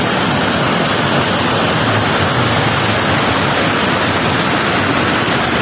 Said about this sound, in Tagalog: malakas din yung agos ng tubig papunta po sa riverbanks